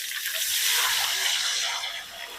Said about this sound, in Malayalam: നമുക്ക് വെള്ളം ഒഴിച്ചു കൊടുക്കാം